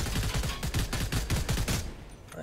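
Rapid video-game gunfire peppering a car's tires, a dense run of sharp, closely spaced shots that stays loud and then cuts off abruptly near the end.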